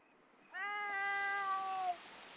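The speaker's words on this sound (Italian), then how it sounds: "Qui c'è un micetto che miagola." A kitten meows in a video game: one drawn-out, clear meow lasting over a second, bright and harmonic with a slightly falling pitch, heard alone against a quiet background.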